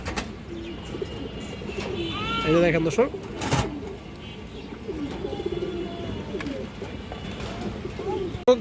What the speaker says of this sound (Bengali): চার পিস খরা গলা কবুতর